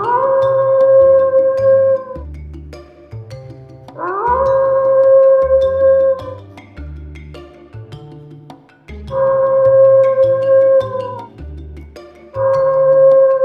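A fox howl plays from a tape recorder hidden in bushes at night outside a house. Long wailing howls repeat in four even bursts over a low throbbing backing.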